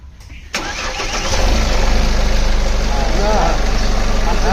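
A car engine with loose engine mounting bolts cranks and catches after a click, then settles into a loud, steady idle with a throbbing rhythm; no one speaks over it.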